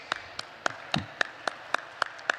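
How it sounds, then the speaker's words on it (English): Scattered, evenly spaced hand claps at a university welcome event, crisp and fairly near, with a steady rhythm about four per second and no talk over them. "please give a big round of applause to your parents"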